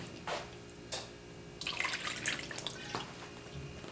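White wine for a baked pork chops and rice casserole is poured and splashed into a dish. The liquid trickles and splashes close by in a few short bursts, quietly and with no talking.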